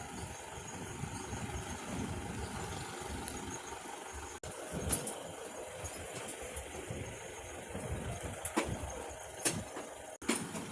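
A Tata Ace mini truck drives along a forest road in Karnataka, its engine a steady close droning rumble throughout, broken by a few sharp knocks and rattles from the rough surface.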